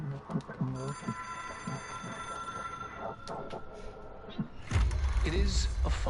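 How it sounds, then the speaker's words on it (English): A telephone rings inside the video game Control, a steady electronic bell tone that sounds for a couple of seconds while someone talks over it, before a low rumbling noise swells at the end. "It is a phone."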